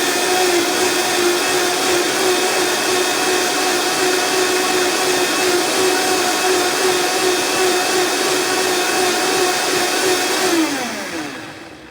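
A Vitamix blender whirs loudly and steadily through a green shake for about ten seconds, then winds down with a falling pitch as it is switched off at the end.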